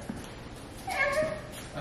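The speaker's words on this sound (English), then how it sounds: "Kitty cat, get off the counter." A house cat meows on a kitchen counter at home, one short, fairly close meow near the middle of a quiet moment.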